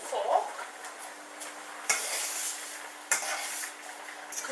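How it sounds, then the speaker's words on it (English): Fork stirring boiling rice in a pot, scraping and clinking against the metal in a few short bursts over a low background hiss. "Our rice has started boiling now, so I'm just going to go get that and stir with a fork."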